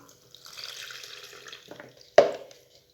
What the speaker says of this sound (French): Maintenant, je vais rajouter donc le reste d'eau.